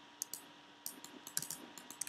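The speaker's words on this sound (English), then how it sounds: "So we just type in cube here" Typing on a computer keyboard, a short run of light, close key clicks in small irregular clusters, quiet and without voices.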